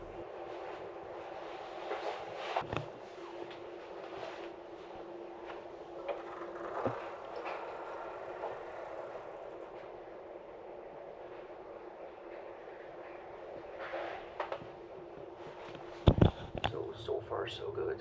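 Interior of a nearly empty first class carriage on a high-speed train bound for Frankfurt: a steady low rumble and hiss of the moving train, with occasional clicks and knocks and a few sharper rattles toward the end.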